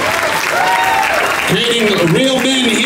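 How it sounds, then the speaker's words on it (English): A crowd at a gymnastics competition in Winter Garden claps steadily through the whole stretch, with someone talking loudly over the applause. "Give a round of applause"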